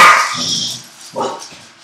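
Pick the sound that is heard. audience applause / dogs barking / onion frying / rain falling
dogs barking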